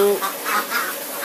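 Several ducks quack in short bursts, close by, one call after another with brief gaps between them.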